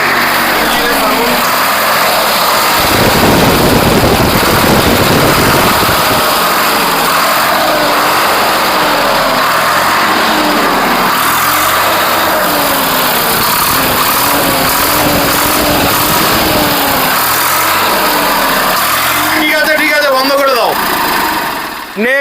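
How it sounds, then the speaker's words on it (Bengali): A second-hand tractor at a used tractor showroom in Cooch Behar starts and settles into a steady, loud diesel idle close by, with a rough rumble throughout and voices talking over it. "তো ফাইনালি গাড়িটা স্টার্ট দিয়ে দিচ্ছে।"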